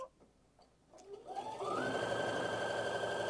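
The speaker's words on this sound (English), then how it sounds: "I'm going to go ahead and sew." A Baby Lock sewing machine starts up and stitches fabric, its steady whirring drive building after a quiet second and a half and then running loud and continuous with no talk.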